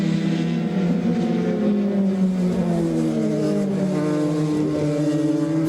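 Formula 3 race cars at the Curitiba circuit drone past with continuous high engine notes, several engines overlapping and rising and falling in pitch, loud and steady throughout.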